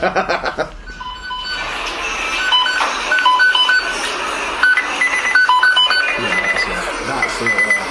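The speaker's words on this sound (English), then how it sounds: "Yeah, McDonald's sound beep." Fast-food kitchen timers beep in a busy McDonald's, with repeated short electronic tones at varied pitches over a layered hum of equipment and background chatter.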